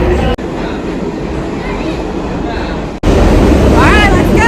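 A New York City subway train rumbles loudly and steadily, with abrupt cuts between segments and rising wheel or brake squeals near the end; voices are faintly present underneath.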